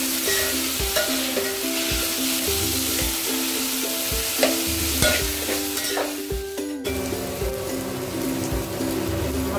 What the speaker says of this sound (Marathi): हे सर्व एकत्र भाजून घ्यायचे।